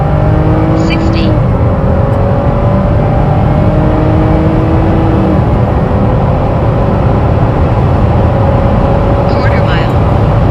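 A 2021 Chevy Blazer in track mode accelerates hard, its engine droning steadily and loudly from inside the cabin, with the tone rising through the gears over about ten seconds.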